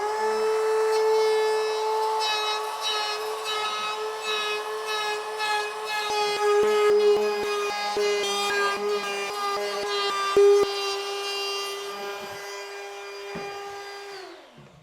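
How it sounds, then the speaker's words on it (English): A power tool whines steadily while trimming corners and sanding box-jointed wooden boxes, with scattered knocks and scraping along the way before the motor spins down at the end. "Now it's time to trim off the corners and give it a light sanding on the outside"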